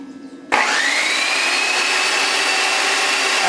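A Black & Decker variable speed car buffer starts up at low speed after brief quiet, then holds a loud, steady motor whine close by, alone without talk.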